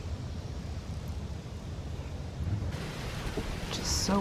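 Steady outdoor wind roar in a cemetery with old headstones, a broadband rumble growing slightly stronger partway through, with faint voices in the background.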